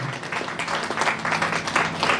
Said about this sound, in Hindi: आइए जोर से ताली हो जाए